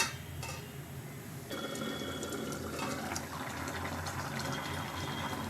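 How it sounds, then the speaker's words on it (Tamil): Water pours into a pan of brinjal and drumstick kara kuzhambu curry, a steady splashing fill that grows fuller and continues to the end. "தண்ணி சேர்த்துக்கலாம். சேர்த்துட்டு நல்லா கலந்து விட்டுக்கோங்க."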